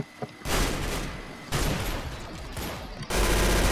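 Rapid bursts of automatic gunfire from a gun in the Roblox game Arsenal, three loud sustained volleys in quick succession with brief gaps between them.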